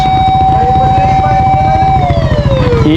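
Fire truck siren at a house fire in the Philippines, a loud wailing tone that holds steady and then slides downward, heavy engine rumble beneath and people talking nearby.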